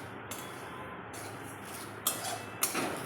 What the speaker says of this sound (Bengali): গোটা ধনে, এগুলো ভালো করে কাঠখোলায় নাড়তে হবে।